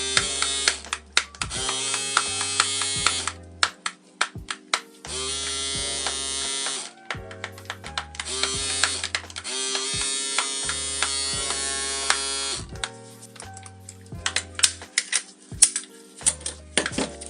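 A Surker electric shaver buzzes in repeated bursts, switched on and off several times, with a rattling, clicking edge to the motor noise and sharp clicks between runs, no voices.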